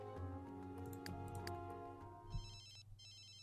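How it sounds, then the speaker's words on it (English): A phone rings in The Sims 3, a steady electronic ringtone with evenly repeating tones over faint tapping, with no talk. "whose phone is ringing?"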